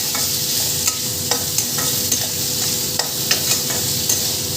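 Vegetables with mustard and drumstick, seasoned with salt and turmeric, sizzle steadily in a pan while a utensil scrapes and clinks against it in repeated sharp strokes, close and without talk.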